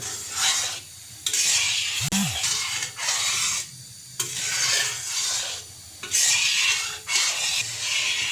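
Custard milk thickening in a pan over a flame while it is stirred continuously, a close scraping and rubbing sound with a soft simmering bubble underneath and one brief bump.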